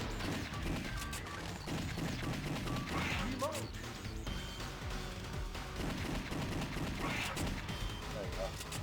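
Lightgun shots ring out in a Dreamcast shooting gallery game, steady and dense amid crashes and game effects, with a faint voice underneath.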